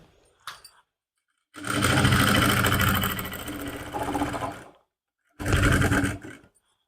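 A sewing machine stitching a suit lining, running in a long steady whirring burst of about four seconds, then stopping, then a second shorter burst, close and loud.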